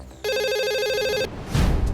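A telephone rings loudly with a rapid electronic trill for about a second, followed by a short clatter as the call is picked up.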